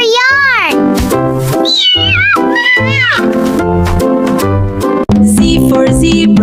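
A cartoon kitten meows repeatedly in a high, bending voice over bright children's music, loud and close, with sung lines woven through.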